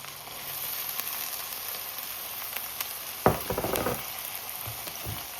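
Sweet corn sizzles in a pan with corned beef, a steady faint frying hiss broken midway by a louder clatter of stirring and spatter.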